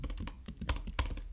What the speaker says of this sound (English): now I need to type npm install